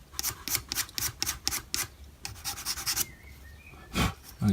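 Hand sanding on a gun stock, rubbing back and forth over one spot, makes close, rhythmic rasping strokes about four times a second, then slows into a few separate scrapes.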